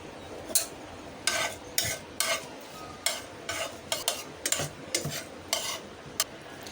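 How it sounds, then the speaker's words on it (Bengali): Dried red chillies frying in oil in a pan, a faint sizzle under repeated short scraping strokes of a spatula at an irregular rhythm. "শুকনো মরিচটা ভাজা হয়ে গেছে"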